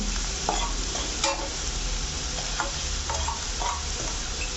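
Chopped banana flower mixture for cutlets sizzles in a pan while being stirred, giving a dense, close frying hiss with scattered light scrapes and taps of the utensil.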